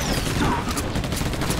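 Covering gunfire in the Battle: Los Angeles video game, a dense, continuous rattle of shots and crackling impacts, loud and close, filling a short burst with no clear talk.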